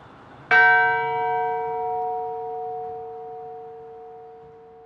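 A single strike of a large cast church bell, the third largest in the Holy Trinity Cathedral bell tower in San Francisco, rings out, its deep humming tones sustaining and decaying slowly in an otherwise quiet space.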